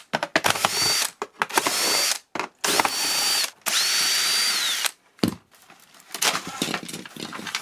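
A power screwdriver whirs in several short bursts with pauses between, removing screws from a lithium-ion vacuum cleaner, its motor pitch rising and falling, with faint clicks and rattles of screws.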